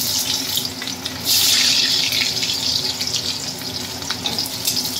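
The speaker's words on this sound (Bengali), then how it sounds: "আলুগুলো ছেড়ে একটু ভেজে নিই।" Potatoes frying in a pan for Bengali katla fish kalia, a steady close hiss and sizzle that swells briefly louder and then settles, with no talking.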